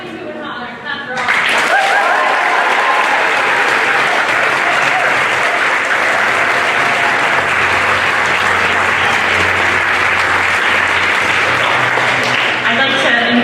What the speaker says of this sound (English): Clap for all.